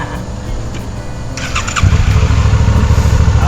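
Diesel engine cranks and catches, a brief starter whine giving way to a loud, steady chugging idle close by, with no voices.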